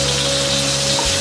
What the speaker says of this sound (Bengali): 5-6টি মরিচের গোড়াটা একটু এভাবে ভেঙে নিয়ে তেলে দিয়ে দিচ্ছি। একটু ভেজে নিতে হবে